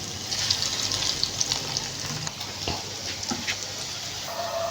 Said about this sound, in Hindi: हमने इनको बड़ी ही स्लो हीट के ऊपर फ्राई करना है